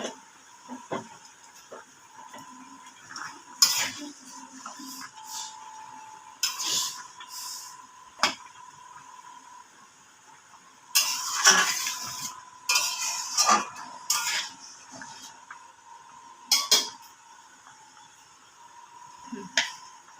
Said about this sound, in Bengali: আমগুলো একটু গলিয়ে নেব, খুন্তির সাহায্যে গলিয়ে নেব।